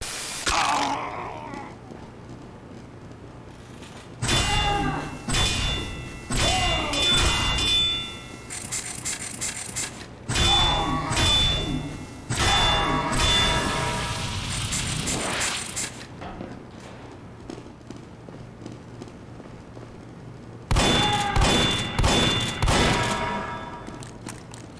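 Righteous Bison energy shots from Team Fortress 2 strike bots at point-blank range in several rapid bursts of crackling, ringing blasts, separated by brief pauses over a low game hum.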